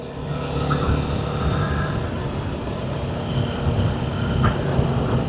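A motorcycle carrying two riders labours up a steep mountain road on the Darjeeling to Sikkim route, its engine a continuous low drone with wind rush, steady and fairly close throughout.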